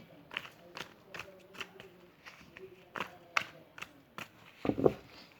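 A deck of tarot cards is shuffled by hand nearby, a soft repeated riffling and slapping in rhythmic bursts, ending with a slightly louder flurry.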